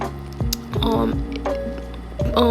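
Water Gun attack in Pokémon Go Battle League, used by a Swampert, plays as quick squishy splashes and watery blips among game clicks and chimes, moderately loud and repeating over a couple of seconds.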